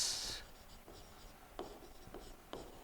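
Pen writing on paper while filling in accounts: quiet, close scratching strokes with a few sharper taps and scribbles at an unhurried pace, without speech.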